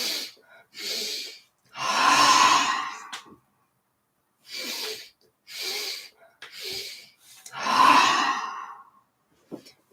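Deep, breathy inhales and long rushing exhales from energizing breathwork, several close, loud breaths in an uneven rhythm with pauses between them, including a big exhale.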